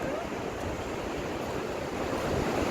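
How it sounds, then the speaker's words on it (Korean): Ocean waves at Yeongildae beach wash in a continuous, loud, close rush of surf mixed with wind noise on the microphone, with no voices. "파도가 좀 세?"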